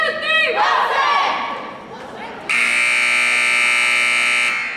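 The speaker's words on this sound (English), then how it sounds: "I think the buzzer will sound here in about 5 seconds" A loud, steady buzzer blares continuously in the second half of a high school varsity volleyball playoff match, following a few seconds of crowd noise and shouting.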